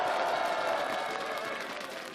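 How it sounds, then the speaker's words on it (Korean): An outdoor crowd applauds in cold weather, a brief, dense burst of clapping that holds steady and starts to fade toward the end. "이렇게 차가운데 고생하시는데 박수 한번 부탁드립니다"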